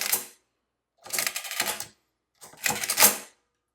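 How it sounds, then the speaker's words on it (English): A Victor Model 110 adding machine clatters in three separate mechanical bursts as its ratcheting pawl rattles, close and sharp with silent gaps between. "There's that ratcheting pole making all the racket."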